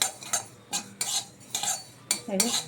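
Sesame and poppy seeds dry roasting in a pan, stirred with a metal utensil in quick repeated scrapes and clinks, close up and rhythmic, with a faint sizzle beneath.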